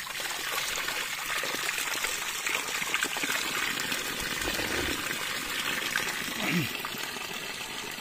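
Cold mountain spring water trickles and splashes steadily beside a trail in Kumrat, Pakistan, a soft continuous gurgle with faint voices and brief sounds mixed in.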